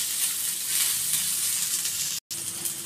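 Okra fries in a pan for a sukha fry, giving a dense, even sizzle that crackles steadily from start to end and is broken by one split-second dropout near the end.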